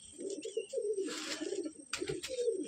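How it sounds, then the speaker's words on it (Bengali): A restless, aggressive Old Nasal Madrasi pigeon at a loft coos in low, rolling throaty phrases, close and repeated, with a few rustling flutters and faint chirps in the background. "খুব অ্যাগ্রেসিভ পায়রা, ছটফট করছে খুব"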